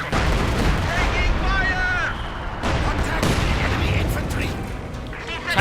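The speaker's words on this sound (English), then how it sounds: "There we go. Veteran 3 mortar." A veteran-level mortar fires in the strategy game Company of Heroes 2, its booming shots and explosions rolling through a dense battle din while a commentator talks over it.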